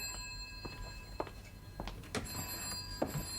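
A telephone bell rings in a quiet room during a spy drama scene, several short bright bursts spaced apart over low background hum.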